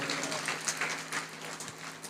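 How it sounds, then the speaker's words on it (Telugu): A church congregation claps together at a sermon, a steady, diffuse wash of many hands lasting about two seconds at moderate level. "కొట్టు చప్పట్లు ఇప్పుడు."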